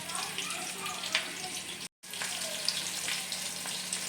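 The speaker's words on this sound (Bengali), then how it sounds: "এগুলো ভাজা হয়ে গেলে সঙ্গে এগুলো তারপর উল্টে দিয়ে বাকি সবগুলো ভেজে নিই" Chicken pakoras deep-fry in hot oil with a soft, continuous bubbling sizzle close by, broken by a brief silent gap near the middle, no talking.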